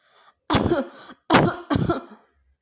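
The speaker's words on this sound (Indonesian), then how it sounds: "Suara batuk itu terdengar lagi." Three harsh coughs, the first alone and the next two close together, loud and near, with quiet before and after.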